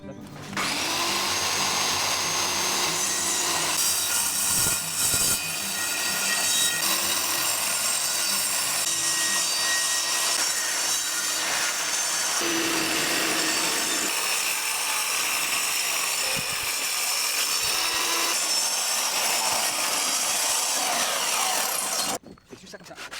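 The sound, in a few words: saw blade cutting a slab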